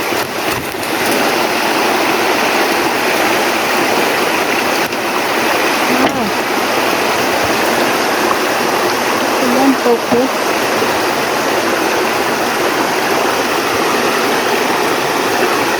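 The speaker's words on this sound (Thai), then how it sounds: "น้ำไหลไหลพี่น้องเลย" Water rushes and splashes in a steady, loud flow close by, like a fast stream, with a few faint knocks underneath.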